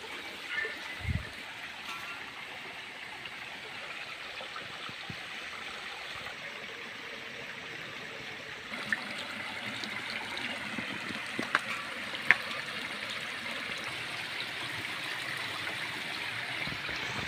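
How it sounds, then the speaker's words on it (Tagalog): A shallow river flows with a steady, soft rushing and trickling of water, continuous and fairly quiet, with a few faint knocks and no talking. "Nandito na po tayo mga kaibigan sa ilog."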